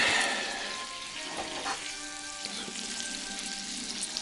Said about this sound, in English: Still kind of cooking, so we're going to take the salmon out of the pan